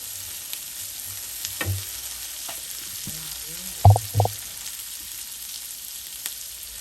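Garlic paste frying in a pan with a steady low sizzle, broken by a few sharp spoon-on-pan clanks and scrapes as it is stirred, close and fairly quiet.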